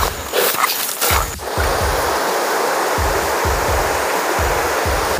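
A deep mountain river rushes and roars in a steady, loud wash of noise, with low thumping footsteps or bumps close by and a brief voice at the start.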